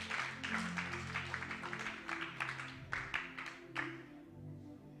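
Clapping from a church youth gathering, a steady run of claps for several seconds with a sharp clap standing out near the end, heard at moderate volume in a reverberant room with a low hum beneath.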